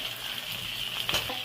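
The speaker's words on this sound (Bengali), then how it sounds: "এই যে এর মধ্যে ভাজাভাজি করে নিই।" Chopped onion, green chili and capsicum stir-fry in a pan for chili chicken, making a short, even sizzle with a light scrape of stirring near the end.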